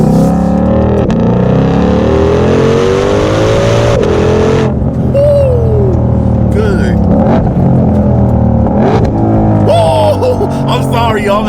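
A 2020 Ford Shelby GT500 roars loudly from inside the cabin as it accelerates hard through the gears, engine pitch climbing and dropping with each shift, while someone talks over it.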